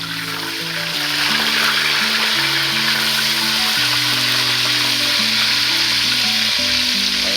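Fish frying crispy in hot oil, a steady loud sizzle and crackle that runs the whole time, with low tonal hum or music layered underneath.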